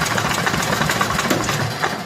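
1964 Cushman Scotsman golf cart engine idling close by, a steady low, even chugging rumble that holds without a break.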